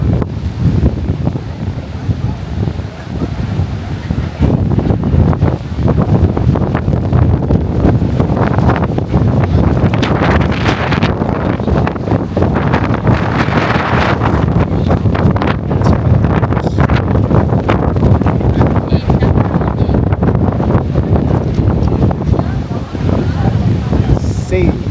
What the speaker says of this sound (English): See how strong the wind is. People coming off the beach.